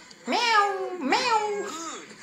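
A person imitates a cat, giving three drawn-out, wavering meows one after another, loud and close, with no other sounds around them.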